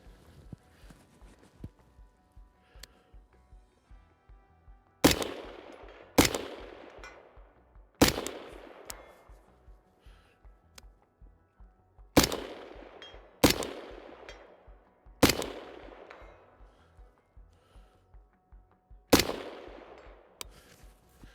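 Rifle shots fired at steel targets through an LPVO scope, seven sharp cracks spaced a few seconds apart, each trailing a ringing decay across an open range, with quieter clicks and movement between shots.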